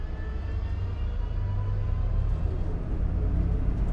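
An Azimut 53 Fly motor yacht drives hard through its own wash and back onto the plane at about 1900 RPM with the Seakeeper gyro off, its engines giving a steady, loud, low rumble with broadband rushing water noise throughout.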